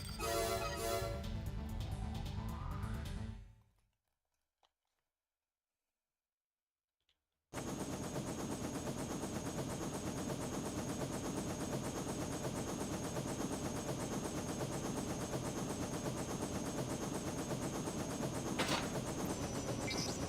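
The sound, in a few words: machine gun firing in video game Armored Core 2: Another Age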